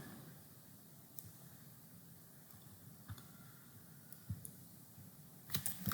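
Faint, sparse keystrokes on a computer keyboard as Go program code is typed. The isolated clicks fall over a low hiss and grow slightly busier toward the end, with no speech.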